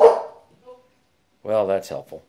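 A pet dog barks once in another room during a particle-emission test of a Dyson DC25 vacuum. The single short bark sounds somewhat distant, and someone speaks briefly soon after.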